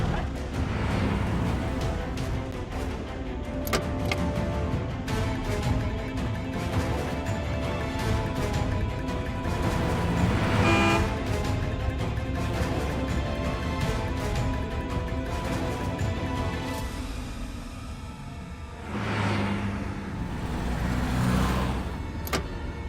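Car driving in a Hindi TV serial scene, a steady engine and road rumble running throughout with a brief mechanical whir midway and a swell of noise near the end, with occasional voices.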